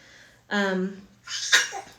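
A single close sneeze: a sharp voiced intake followed by a breathy, explosive burst, with no talking around it.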